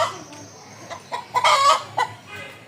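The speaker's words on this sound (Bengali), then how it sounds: "যে মুরগি ডাক" Chickens cluck at a chicken farm near a village home, a few close, fairly loud calls in short separate bursts with quieter gaps between them.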